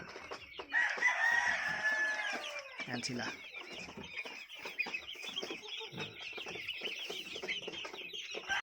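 Hybrid chickens, Jersey Giant and Rhode Island Red crosses, cluck and chatter steadily in a farm coop, with a rooster crowing near the start and someone speaking briefly over the flock.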